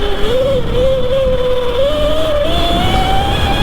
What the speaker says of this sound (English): That motor whine is so nice